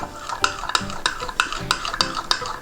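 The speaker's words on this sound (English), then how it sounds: "we are going to mix" A spoon mixing blue food colouring into slime in a bowl, a fast regular rhythm of close scraping, sticky strokes with no talk.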